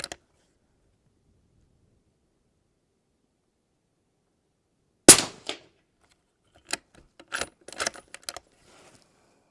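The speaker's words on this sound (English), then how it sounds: "let's just fire 3 rounds." Three rifle rounds fired at a shooting range, a sharp loud crack followed by sparser clicks and rattles of handling, with long silence beforehand.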